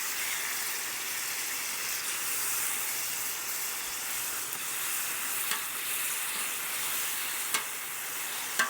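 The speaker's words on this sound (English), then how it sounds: "I'm gonna add the barbecue sauce and just keep basically tossing this in there to coat the thing" Pork sizzles steadily on a flat-top griddle while being tossed in barbecue sauce, a continuous close frying hiss with faint scraping and a few small clicks, no talking.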